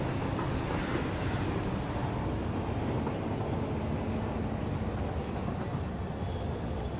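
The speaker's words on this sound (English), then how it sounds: "Gosh, the train just seems so incredibly loud." A train in the video game Satisfactory rumbling past loudly, a steady dense roar of rolling rail noise with no breaks, close and overwhelming throughout.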